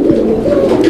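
Fancy show pigeons coo loudly and continuously up close, a steady low throaty warble filling the moment without any talk.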